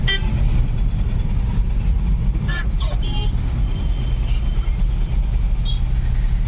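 Slow-moving cars, trucks and buses in a traffic jam near Y junction give a dense, steady roadway rumble, broken by a couple of short car-horn honks in the middle.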